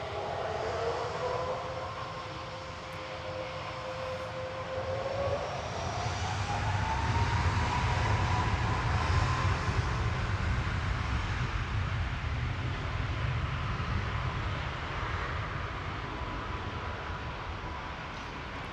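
A Ryanair jet airliner from Tenerife passes at a distance near Manchester Airport, a steady broad engine roar with a faint rising whine that swells gradually and holds for the whole stretch.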